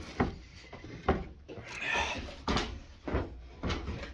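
The drawer of a bee pollen trap is handled, giving a run of hollow knocks and sliding scrapes at an irregular pace, close up and moderately loud.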